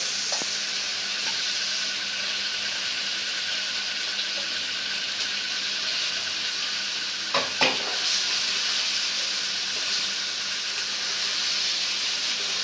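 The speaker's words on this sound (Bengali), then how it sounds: "এখন ভেজে রাখা মাছগুলো একে একে দিয়ে দিব।" Fried rohu fish pieces going into cooked-down masala with oil floating on top, a loud continuous sizzle with a brief clatter partway through as a piece drops in.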